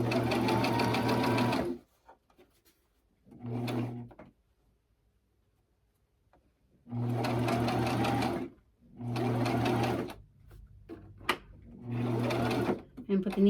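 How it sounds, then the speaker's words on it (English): A sewing machine stitches and backstitches a fabric heating bag filled with cherry pits, whirring close in five start-stop bursts of varying length separated by quiet pauses. "And backstitch to lock it."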